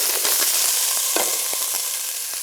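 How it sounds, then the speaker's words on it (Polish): Potatoes, leek and carrot fry and sizzle loudly in a pot for soup, a dense steady hiss close by with scattered scraping knocks as the vegetables are stirred. "dodaję do ziemniaków pora i marchewkę pokrojoną drobniej. Całość przemieszam"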